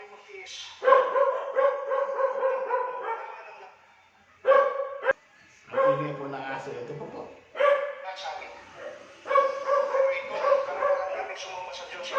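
Pet dogs bark and yip in repeated bursts with short pauses, fairly close and loud, with a few whimpering notes among the barks.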